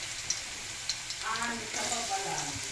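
Garlic sizzling in hot cooking oil, a steady crackling fry that grows busier as the garlic goes in, with a voice talking quietly over it.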